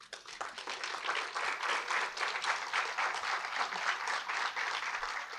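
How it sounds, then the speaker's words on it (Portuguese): An audience at a Sempre Um Papo talk by Pedro Duarte applauds vigorously, a dense, steady wash of many hands clapping that carries on without a break for over five seconds. "A plateia aplaude vigorosamente."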